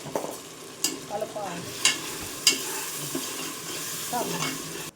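A spoon stirs cooked tomatoes with turmeric in a pan, scraping and clattering in several distinct strokes over a low, steady sizzle, with no voices.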